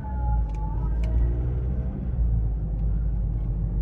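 A VW Golf 7 with a DSG gearbox out on a test drive, with a steady, loud low engine and road rumble heard from inside the car.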